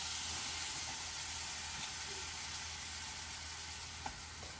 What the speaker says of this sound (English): Now what we're going to do is stir this around. We're going to make a roux.